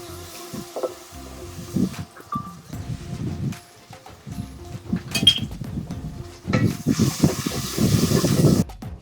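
Onions cook in a pan as turmeric and live lobster go in, giving bursts of hissing sizzle and pan clatter that swell louder toward the end.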